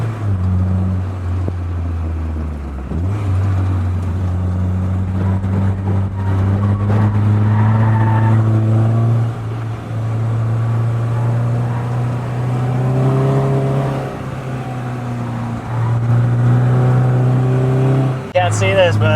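A Peugeot 205 GTI driven flat out on a mountain road in Thailand, its engine droning loud and steady, pitch rising and falling through gear changes with a brief lift near the start and at the end.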